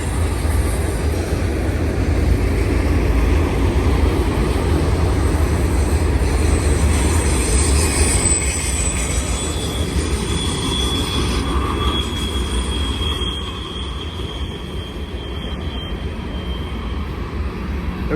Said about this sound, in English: Here comes another one. Classic green. Train's moving.